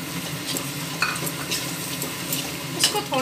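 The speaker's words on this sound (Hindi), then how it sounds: "अब मैं इसमें मिलाने जा रही हूँ पनीर, जो हम स्मॉल क्यूब में काट कर रखे हैं उसको मिला रही हूँ।" Small cubes of paneer are stirred into a sizzling masala for paneer butter masala, a constant fry hiss with repeated scraping strokes of a spoon against the pan.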